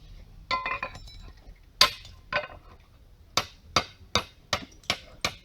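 A hammer trims the edge of a roofing slate from Travassac, giving a series of sharp, close clinking strikes, irregular at first, then a steady run of about eight evenly spaced taps.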